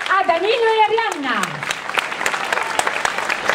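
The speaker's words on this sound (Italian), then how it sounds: "possiamo fare un grande applauso a Danilo e Arianna" Audience applause at an outdoor summer talent show on a town street in Ruvo, loud dense clapping from a crowd, with a sliding voice or whistle-like tone rising and falling over the start before the clapping carries on steadily.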